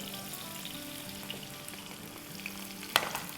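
Large chunks of onion frying in a pan for chicken keema do pyaaza, a steady soft sizzle throughout with a brief utensil clink near the end and no talk.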